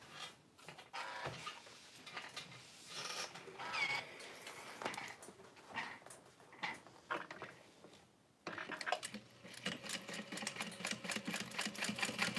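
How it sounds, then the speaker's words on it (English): A sewing machine bastes a leather bag lining in intermittent bursts of rapid mechanical stitching, quiet and close, with short pauses between runs and a denser, steadier run of stitching at the end. "I'm going to baste this"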